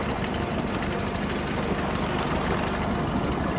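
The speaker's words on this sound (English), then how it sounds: "It's already about as fast as it was, and I'm just idle cruising." A tractor engine idles steadily while the machine cruises along, a continuous low rumble held at an even, loud level with no pauses.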